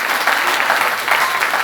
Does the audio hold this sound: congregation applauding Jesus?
yes